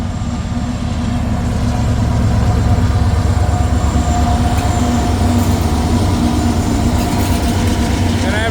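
Heavy freight train loaded with steel coils, telephone poles and lumber rolling past at Canal Ridge, a loud steady rumble of railcars and wheels on track with faint squeals, continuous throughout.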